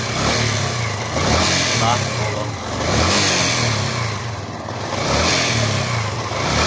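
Motorcycle engine with a faulty stator coil running in rough, uneven surges, its mid-pitched drone swelling and dipping every second or so, close up.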